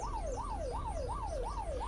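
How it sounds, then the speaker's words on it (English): A police van siren in the video game Unturned wails in a fast, regular rising-and-falling cycle, about five sweeps in under two seconds, loud and close over a low engine hum. "like any standard police vehicle, it has lights, a horn, and a siren."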